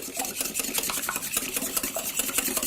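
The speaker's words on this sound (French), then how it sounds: "Alors tu commences à mélanger." Cupcake batter with cracked eggs being mixed by hand for savory candied-tomato and mustard cupcakes, giving a steady, rapid scraping and clinking whisk rhythm against the bowl, close and continuous with no talking.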